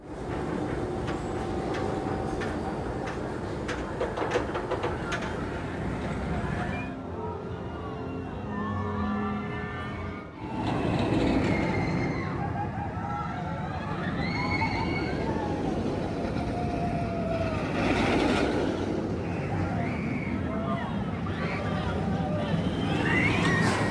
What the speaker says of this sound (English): Made it to the furthest reaches of the dry park for Batman, the Dark Knight, the B&M Floorless Coaster